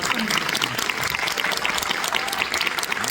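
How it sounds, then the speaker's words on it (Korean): An audience at a special film screening claps steadily, a dense, even round of applause filling the room for a few seconds. "감독님 정말 고생 많이 하셨는데 박수 한번 주세요"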